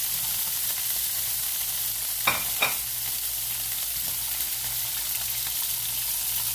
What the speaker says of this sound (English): putting it on here to fry it in some olive oil. Very, very hot skillet is how I want it.